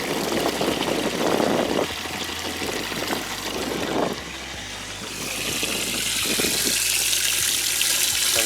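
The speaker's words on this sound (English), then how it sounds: "I never did turn the pump off, it's on still." A boat livewell pump runs and pushes water, a steady rushing, splashing flow with a low mechanical drone underneath, close and continuous, shifting to a brighter hiss partway through.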